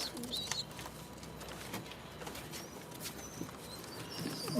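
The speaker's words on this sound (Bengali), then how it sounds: "তো বাড়ির পায়রা আমার এই।" Domestic pigeons cooing at a house loft, soft low coos scattered through a few seconds over a faint continuous background hiss.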